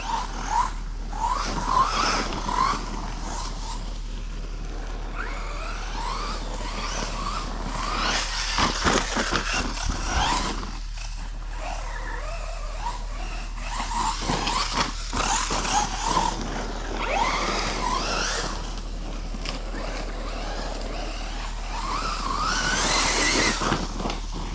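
An FTX DR8 RC car fitted with stock wheels and +13mm wideners runs with its wheels sliding, a whiny motor rising and falling in bursts over a constant low hum, nearby and fairly loud throughout; no talk.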